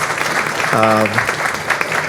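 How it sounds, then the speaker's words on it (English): A round of applause from a group at a Portsmouth, Virginia city council meeting, steady clapping throughout with a brief spoken voice rising over it partway. "It's appropriate to clap."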